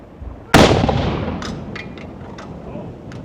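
A single loud, sharp boom of a naval gun firing a round erupts and decays into a long rumbling echo, followed by a few faint distant cracks.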